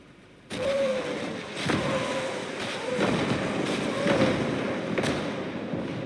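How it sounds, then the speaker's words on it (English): Nebelwerfer rockets strike a T-34 tank in Call to Arms Gates of Hell: a sudden loud onset, then a sustained roaring barrage with repeated sharp impacts at roughly one-second intervals and faint whines over the top. "I'll just show you the Nebelwerfers damage on the T-34 because it is quite effective"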